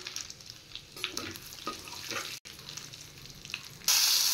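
Whole cumin seeds sizzling in oil left from frying prawns, a close, crackly frying sound with small pops, a momentary gap, then a sudden louder surge of hiss at the end.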